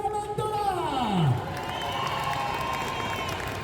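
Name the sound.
audience applause for a guest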